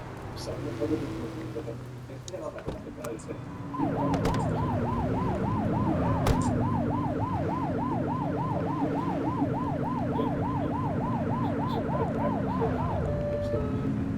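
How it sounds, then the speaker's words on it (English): A police siren from The Precinct video game wails in a fast, steady, looping rise and fall for about nine seconds, loud and close over a continuous engine rumble. "You're only meant to use the siren in emergencies."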